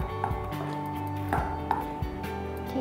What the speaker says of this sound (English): Mix until the color is even out.